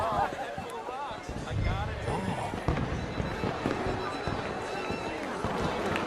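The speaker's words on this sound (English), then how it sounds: "Let me enjoy the fireworks." Fireworks in Red Dead Redemption 2 pop and crackle in irregular bursts over a game soundtrack, with people speaking over much of it.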